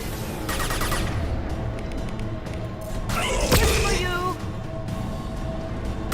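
Rapid gunfire echoes through a Mass Effect 2 battle on the PC, a dense run of shots over a noisy game soundscape that swells into a louder burst midway.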